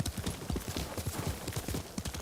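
Horse hooves clip-clop in a steady, rapid rhythm inside a video game, with the trotting footfalls close and continuous throughout.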